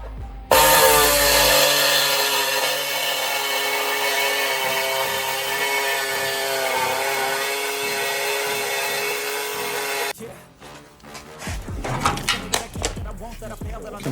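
Metal being ground off the body of a Mazda B2200 to fit taillight buckets: a loud, steady, close power-tool whine for about ten seconds, then stopping, followed by clatter and brief voices.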